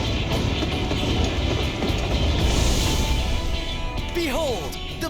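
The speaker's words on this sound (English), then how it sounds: "Behold, the pinnacle of locomotive engineering, the Dawn Blazer." Dawn Blazer train running in Final Fantasy XIV, a loud rolling rumble with rhythmic clatter that eases toward the end, where a brief rising-and-falling melodic tone cuts in.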